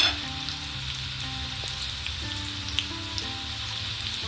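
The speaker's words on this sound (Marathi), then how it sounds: "आता आपण शेलो फ्राय करून घेणार आहोत." Latwadi rolls shallow-frying in a little oil make a steady, soft sizzle with light crackles, close and continuous, with no voices.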